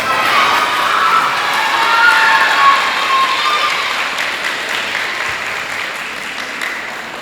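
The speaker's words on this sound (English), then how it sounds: "let's give your families a round of applause" An audience at a fifth grade promotion ceremony breaks into loud, sustained applause with cheers and children's shouts, swelling early and then slowly tapering off.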